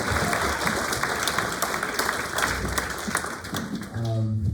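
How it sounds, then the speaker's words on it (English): A room of guests at a volleyball banquet claps together in a steady, full round of applause, then it thins and fades in the last second. "Round of applause for Kara for putting up with us."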